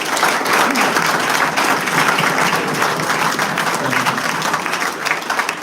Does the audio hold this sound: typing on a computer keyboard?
no